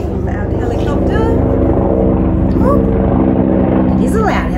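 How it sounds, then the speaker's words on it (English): A loud helicopter passes directly overhead with a constant, heavy rotor roar that dominates throughout, while a person talks beneath it. "Oh, it is a loud helicopter, isn't it?"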